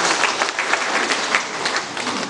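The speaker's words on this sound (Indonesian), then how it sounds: "Tepuk tangan dulu, banyak sekali." Congregation at a combined church worship service breaks into steady applause, dense clapping filling the space without pause and without any speech over it.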